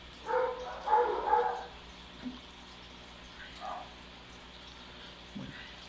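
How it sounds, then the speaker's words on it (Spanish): Dogs barking outdoors, a cluster of moderately loud barks at the start followed by a few fainter, scattered barks and yelps. "ni porque estoy buscando evitar el sonido de los perros, lo logramos"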